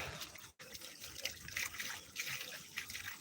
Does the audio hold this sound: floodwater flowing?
yes